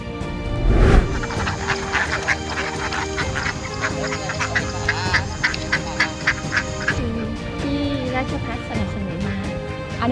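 A flock of young farm ducks quacks continuously and loudly up close, with overlapping honking calls throughout and people talking nearby.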